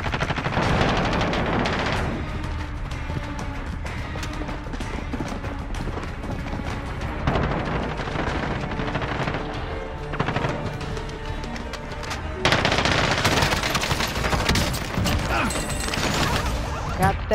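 Automatic gunfire in Call of Duty: Modern Warfare Plunder mode: dense, continuous bursts of rifle and machine-gun fire run throughout, loud and close, with a louder surge near the end, while players talk over the shooting.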